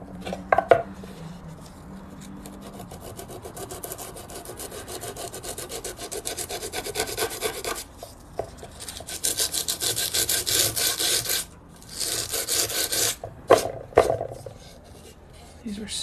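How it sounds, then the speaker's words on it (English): Hand sanding of a rough painted surface being prepared for another coat of gesso, a steady scratchy rubbing in long strokes that grows louder and more vigorous, with brief pauses between passes. "I needed to sand them"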